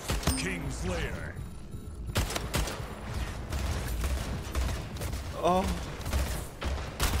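Rapid gunfire in the arena shooter Splitgate, repeated shots crackling through a busy game soundscape with mechanical clicks and effect swooshes, while a man reacts briefly over it.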